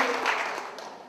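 Wedding guests clap together during the ceremony, a brief, dense burst of applause that fades slightly toward the end.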